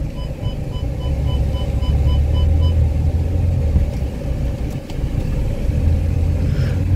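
Audi A4 automatic diesel car idling after start-up, a steady low engine rumble with a faint tonal whine, close and continuous throughout.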